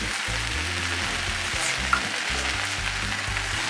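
Semolina upma bubbling in a pot, thick low plops repeating in an irregular rhythm under a steady broadband sizzle, close and moderately loud with no voices.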